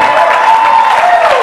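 Loud crowd applause at a comedy show, dense and continuous clapping with a faint tonal hum running through it, filling the whole short stretch without any talk.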